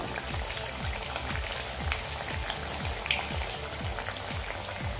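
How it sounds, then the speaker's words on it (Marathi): Spinach fritters (palak vadi) deep frying over a medium-low flame make a dense, steady bubbling sizzle with constant crackle, close and even throughout, with no talking. "आता या दुसऱ्या साईडनेही आपण व्यवस्थित अशा तळून घेऊया"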